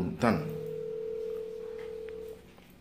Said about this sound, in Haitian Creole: Mais téléphone Lovely a sonné.